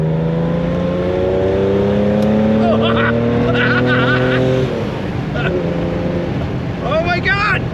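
A Porsche 911, freshly repaired after running on five cylinders, pulls away on a drive. Its engine drone climbs steadily in pitch up close, then eases off as people inside the car talk and exclaim.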